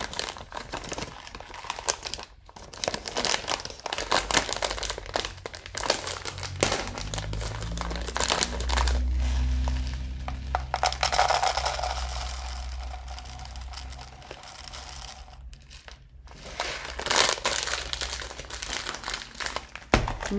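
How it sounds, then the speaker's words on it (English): Dry lentils pour and rattle into a homemade shaker, a close, crinkly rustle and patter of grains that runs on fairly steadily with brief pauses and rises again toward the end; no one talks. "I'm going to use lentils, and I'm going to put some in my shaker."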